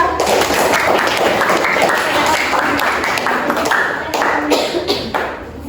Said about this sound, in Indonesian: tepuk tangan untuk Najwa